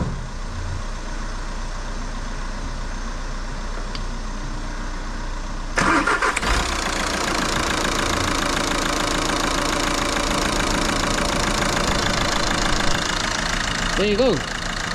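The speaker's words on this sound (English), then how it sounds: "get on the key and give it a big start" A Volkswagen Caddy van engine, just refitted with a new water pump and fresh coolant, cranks and catches about six seconds in, then settles into a loud, steady idle close by.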